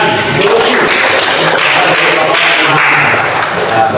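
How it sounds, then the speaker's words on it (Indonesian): Students in a classroom clap together during a religious studies lesson, giving a short burst of fairly loud, scattered applause. "tepuk tangan."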